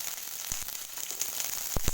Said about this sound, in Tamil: இது எல்லாத்தையும் கொஞ்ச நேரம் நல்லா வதக்கிக்கணும்